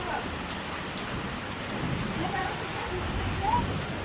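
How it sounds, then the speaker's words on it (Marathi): Heavy rain pouring down steadily, a dense continuous hiss of drops on surfaces nearby, with faint voices underneath. "जोरात पाऊस पडतो."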